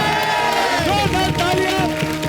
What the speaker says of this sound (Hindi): जोरदार तालियां इन तीनों महिलाओं के लिए।